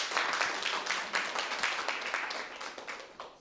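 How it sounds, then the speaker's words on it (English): Sparse applause from a small audience at a policy and AI session rewards a speaker named Londi, individual claps distinct and rhythmic, strongest at first and thinning out gradually. "Can you give Londi a round of applause, please?"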